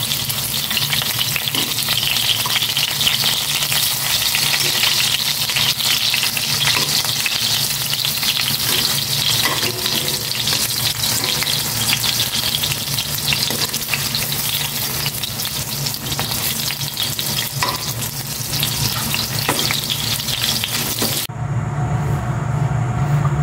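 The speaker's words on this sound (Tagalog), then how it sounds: "I-prito ko naman na itong langgunisa." Longganisa sausage sizzles and spatters in a hot pan, a loud, steady crackling fry that persists throughout before cutting abruptly to a quieter, hissing sizzle near the end.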